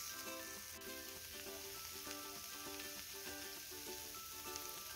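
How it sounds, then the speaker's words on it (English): Vegetables fry in a pan while being stirred, giving a steady close sizzle throughout with light scraping and a faint repeating tonal hum in the background. "Going to go back and give those vegetables another fry, another stir."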